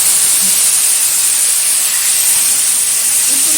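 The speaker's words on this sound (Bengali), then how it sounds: "এবার আস্তে করে আমি তেলের মধ্যে ছেড়ে ভেজে নেব।" Potato and eggplant pieces coated in salt and turmeric sizzle in hot oil, a loud, steady, close hiss that runs unbroken throughout.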